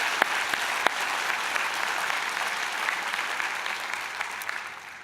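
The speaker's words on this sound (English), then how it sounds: "Let's give you a big round of applause." Sustained applause from a large audience honoring graduates at a fall university convocation ceremony, dense steady clapping filling the hall for the full stretch with a few sharper claps popping out.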